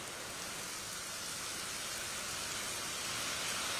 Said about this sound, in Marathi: मुंबईतल्या पावसाची ही दृश्य आहे। मुंबईमध्ये प्रतीक्षेत असलेला पाऊस अखेर आज आलाय।